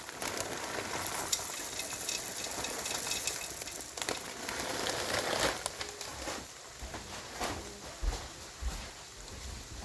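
A spoon stirs organic peas into chicken rice soup in a pot, making a continuous close scraping, sloshing clatter with a soft simmering hiss and a few sharper knocks, and no talking.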